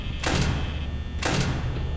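Security doors in the video game Five Nights at Freddy's slam shut twice, about a second apart. Each is a sharp, heavy mechanical clank over a constant hum of background noise.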